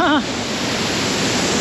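Kanchenjunga Falls pours with a loud, steady rush of water close by, after a short voice at the very start that quickly gives way to the constant roar.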